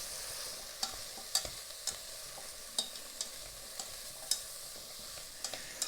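Vegetables sizzle steadily in a pan on a slow-response hob while being stirred, a constant close hiss broken by sharp clicks and scrapes of the utensil at irregular intervals, with no voices.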